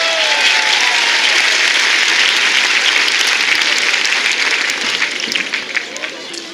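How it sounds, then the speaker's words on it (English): A large crowd at a high school graduation ceremony applauds loudly and continuously, a thick, even roar of clapping with a faint cheer near the start, easing slightly over the last second or so. "Please give her a large round of applause"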